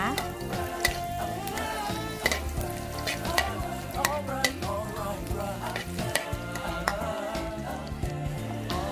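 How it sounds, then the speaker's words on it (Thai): Lightly crushed garlic sizzles in a hot pan for Thai pad see ew, the frying loud and steady as a utensil stirs and scrapes it, close up, with background music playing throughout. "นำลงไปผัดเลยจ้าเอาให้หอมฉุยไปเลยนะคะ"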